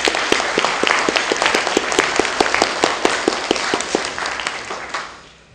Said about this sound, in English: And maybe we could a round of applause.